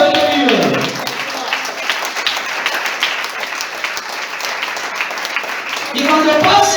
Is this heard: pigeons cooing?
no